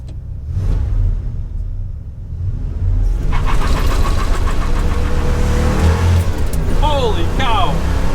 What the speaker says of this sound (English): That's the first time I launched it. The car was struggling for traction, as you saw.